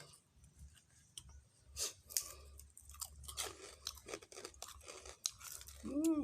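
Crispy pork rinds crunched and chewed after being dipped in Thai papaya salad, with bites and crackling mouth sounds coming in irregular bursts close to the mic, while a voice talks over part of it.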